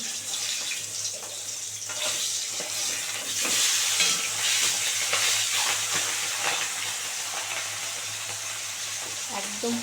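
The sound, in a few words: fish frying in oil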